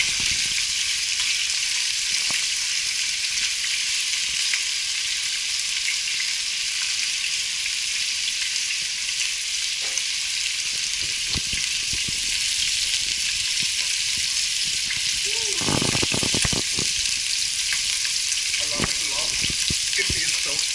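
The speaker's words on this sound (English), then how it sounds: "Basically, the idea is just to brown these off." Short ribs brown in a hot pan with a steady, loud sizzle and hiss of frying fat, broken by occasional crackles and pops and a brief stirring scrape, with a voice speaking faintly now and then.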